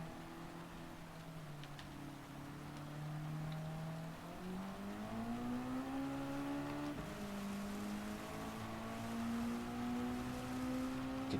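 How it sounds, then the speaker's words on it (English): A race car in Gran Turismo 7 struggles for grip, its engine holding a continuous droning note that dips and climbs in pitch as the revs shift, steady and moderately loud with no talk. "You can hear the car is just struggling for grip now."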